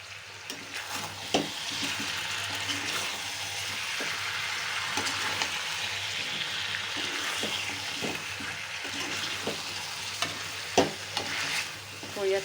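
Rice and meat stirred in a frying pan, a steady close sizzle with repeated scraping strokes of the spoon throughout, no talking.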